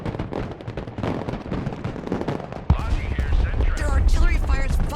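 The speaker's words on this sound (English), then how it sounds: "Their artillery fires volley after volley without repositioning" Artillery in the real-time strategy game Broken Arrow fires volley after volley, a rapid run of sharp cracks and booms followed by a heavier blast and rolling rumble, with a voice talking over the barrage.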